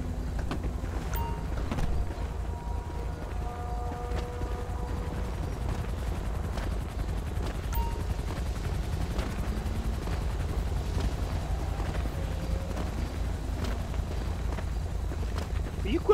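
A police helicopter in Grand Theft Auto 5 with the LSPDFR mod hovers over Harmony, a steady, low rotor drone that runs throughout beneath intermittent voices and game radio chatter.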